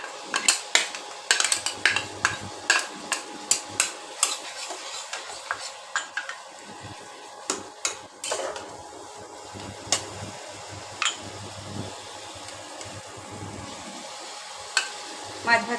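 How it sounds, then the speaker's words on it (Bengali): Fried potatoes and onion are stirred into a rui fish curry in a pan as a spoon clinks and scrapes repeatedly against the metal over a low sizzle, close and rhythmic. "আলু পেঁয়াজ ভাজাটা দিয়ে দেবো।"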